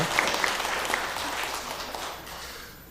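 Congregation applauding during a Sunday church service, a soft, even wash of many hands clapping at a distance that fades gradually toward the end.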